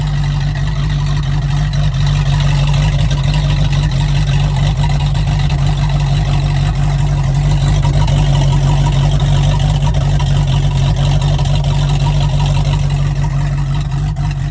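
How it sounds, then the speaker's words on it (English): A GM big-block V8 engine in a 2000 Donzi 26ZX boat rumbles steadily at idle, loud and close, with a deep constant drone and no voices. "Nothing like the sound of a GM big block"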